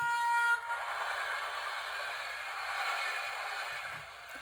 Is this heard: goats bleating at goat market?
no